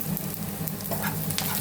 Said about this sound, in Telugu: ఎందుకంటే ఉల్లిపాయలు వేగుతున్నాయి